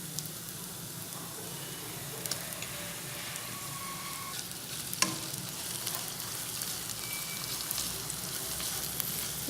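Ginger garlic paste sizzles in a pan of lightly browned onions for a Nawabi-style mutton curry, a steady close frying hiss with faint stirring scrapes throughout and no talk.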